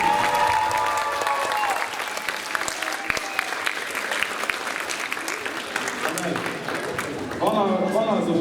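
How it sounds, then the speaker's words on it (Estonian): A crowd claps steadily with scattered louder claps at a school Christmas party, while voices and cheers rise over the applause near the end. "üks aplaus veel palun"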